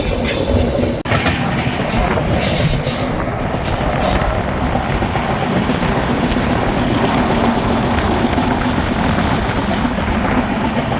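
The CR Rajdhani Express runs on the line toward Mumbai from inside the train, with a loud, continuous rumble of wheels on track and rhythmic clickety-clack throughout.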